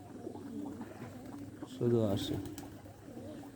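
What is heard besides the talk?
pigeons cooing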